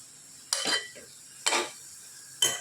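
A spoon stirs cumin into a hot cooking pan, giving three separate scraping, clinking strokes against the metal a second or so apart, close and fairly quiet.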